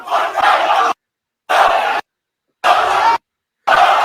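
Angry wrestling crowd at John Cena's final match booing and shouting in four loud bursts, each cut off abruptly by stretches of silence.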